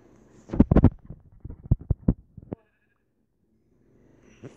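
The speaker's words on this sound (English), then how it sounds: "Ooh, sheep!" Sheep bleat in a video game as a cluster of short, wavering calls over about two seconds, fairly close and clear, followed by near silence and then a faint return of background sound.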